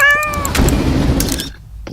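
A cat lets out a loud, close meow with a falling pitch, followed by a rougher, drawn-out second cry, both heard alone with no talking.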